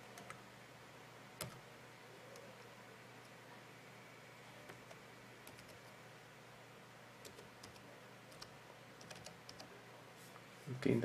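Someone types a Wi-Fi key on a computer keyboard during a Windows 10 setup, producing faint, sparse key clicks over a quiet room hum.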